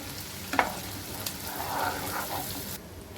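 Ginger garlic paste sizzles steadily in an oil pan while making chicken pickle, a continuous close frying hiss with a couple of sharper spatula scrapes, no voices.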